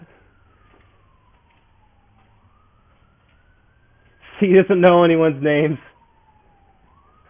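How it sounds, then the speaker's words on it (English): A police siren outside wails faintly in the distance, rising and falling steadily throughout, while a voice speaks briefly over it. "Oh, you can hear the police siren outside."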